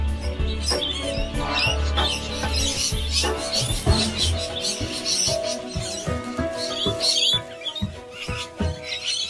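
Loud, busy chorus of shrill squawks and chattering calls from several parrots close by, overlapping continuously with no talking.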